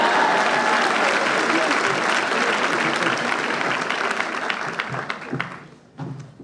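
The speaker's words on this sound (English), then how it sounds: "Round of applause." A large audience applauds at a law school commencement ceremony, steady dense clapping that stays loud for several seconds and then thins out into scattered claps at the end.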